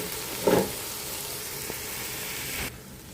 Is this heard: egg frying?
yes